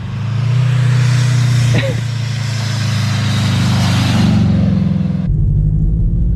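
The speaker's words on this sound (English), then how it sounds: "you can hear the blow-off valve from so far" Blow-off valve on a supercharged stick-shift FRS gives a loud breathy rush over a steady, close engine drone. The whoosh swells late, then drops abruptly to a lower, quieter idle rumble.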